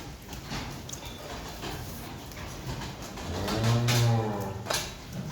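A dairy cow on a farm gives a single loud, drawn-out moo partway through. Faint barnyard noise sits beneath it.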